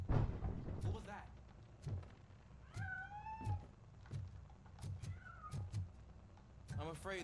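Cat meowing in the video game RoboCop: Rogue City, several short rising and falling cries spread across the clip, heard over dull game thuds and background rumble, with a voice speaking between them.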